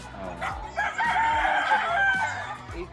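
A gamefowl rooster on a game farm lets out one drawn-out crow that dominates the moment, with other birds and faint voices in the background.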